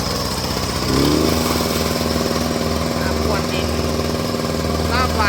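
A small Kubota T-30 two-stroke petrol tiller engine buzzes loudly and close, revving up after a second and then holding a rough, steady drone.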